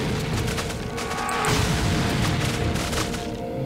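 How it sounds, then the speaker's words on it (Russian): A dense, rumbling explosion from the game Serious Sam Double D, with crackling debris and booming, continuous noise throughout, loud and close. "Нифига себе, взрыв какой."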